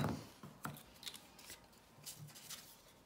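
Scissors cutting paper to shape a bookmark, a few quiet close snips and rustles of paper spread over a few seconds, faint and alone without talking.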